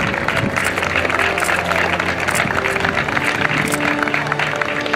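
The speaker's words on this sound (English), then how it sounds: "please give a round of applause for Mr. Jim Brewer" Crowd applause at a Georgia Military College game for a Military Appreciation Day honoree: a steady, dense wash of clapping and crowd noise that holds for the whole stretch, with tonal sound running underneath.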